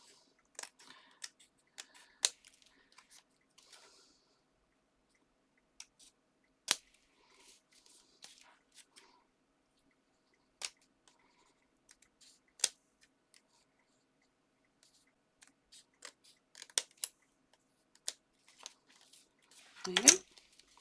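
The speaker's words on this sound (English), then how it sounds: "just bring your scissors in and just carefully trim" Scissors carefully trimming the excess off a paper decoupage card, giving sparse, quiet, crisp snips scattered irregularly, closing with a brief rustle of handled paper and no talk.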